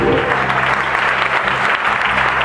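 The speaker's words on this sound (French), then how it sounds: "On acclame Dieu très fort." A church congregation applauding loudly during a worship service, a dense, steady wash of clapping from many hands that fills the room, with faint voices beneath it.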